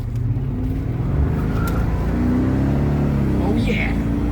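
A Mercedes R129 SL 500 V8 roadster accelerates under throttle, its steady engine drone rising in pitch with a continuous rumble; someone talks over it.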